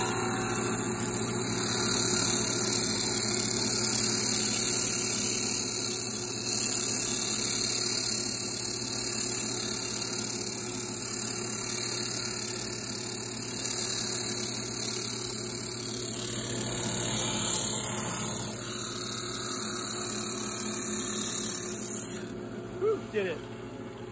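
A thickness sander runs continuously as a thin wooden herringbone purfling strip is fed through, giving a close, steady whirring hum with a brief change in tone near the end.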